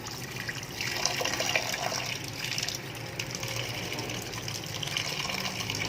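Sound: washing duck eggs in water

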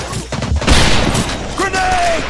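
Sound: gunfire in a war video game

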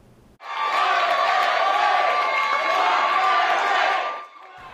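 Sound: celebratory cheer at Chicago City Council vote

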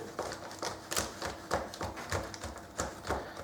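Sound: knife cutting homemade protein bar into pieces

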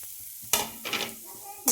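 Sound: frying grated coconut in a pan

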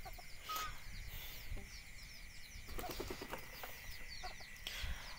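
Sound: desi chicken and rooster

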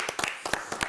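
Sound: studio audience applause

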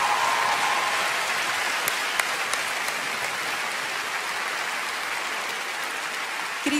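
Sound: audience applause

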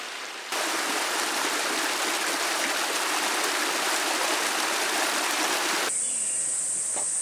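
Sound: mountain stream flowing in Naejangsan

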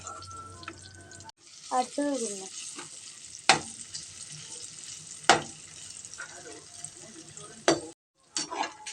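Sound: bitter gourd frying in oil

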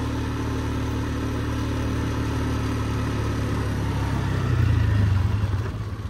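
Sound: Polaris off-road vehicle engine running

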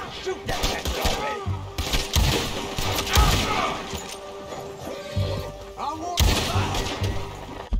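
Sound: gunshots in the Red Dead video game

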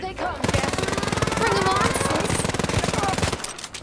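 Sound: gunfire in the video game Wolfenstein: Youngblood

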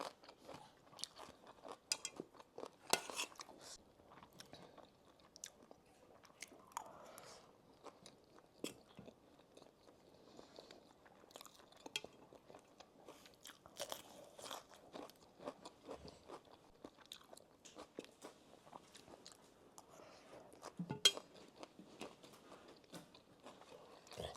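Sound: loud chewing

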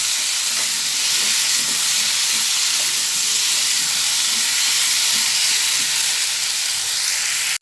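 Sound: stirring and frying elephant foot yam and potato curry

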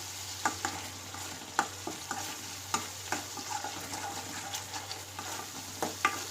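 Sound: stirring spices into frying pav bhaji vegetables

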